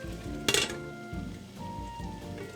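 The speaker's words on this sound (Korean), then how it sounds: "양념을 골고루 섞은 후 뚜껑 덮고 끓여주세요." Metal pot clatter and a sharp clink as mapo tofu sauce is stirred and a lid set on the pot, one bright knock near the half-second mark over low steady kitchen hum.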